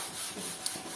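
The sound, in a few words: sanding paint on a painted canvas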